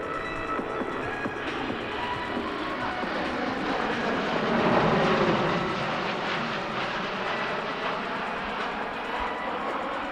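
A USAF C-17 Globemaster III passes low over an air show, its jet engines a broad, steady roar that swells to a peak midway through the flyby and then eases off.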